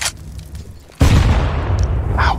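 A grenade blast in the shooter game CS:GO during an ESL One Cologne 2020 match on the Vertigo map: a sudden loud boom with a sustained rumbling tail.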